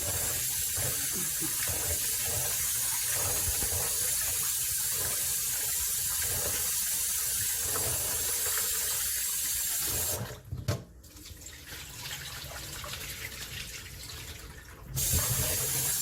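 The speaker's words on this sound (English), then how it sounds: "this is the rice, and I'm going to go ahead and wash it so I can put it in a pot" Tap water runs steadily in a sink as rice is washed, with a brief louder splash and rinsing partway through, close by and without talk.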